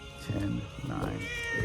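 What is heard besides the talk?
cat meowing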